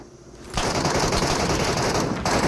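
Machine gun fire from the BGMI battle royale game, a sustained loud rapid burst starting after a brief lull and running to the end.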